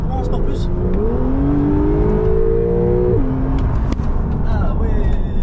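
Porsche 911 Carrera engine in Sport Plus mode blipped by the throttle, revs climbing in a smooth rising sweep, holding briefly, then dropping back to idle, loud and close from inside the car, with people talking over it.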